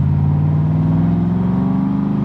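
A 1965 Shelby Cobra Backdraft engine runs loud and close with a steady, deep, throbbing note, holding an even rumble throughout with no voices.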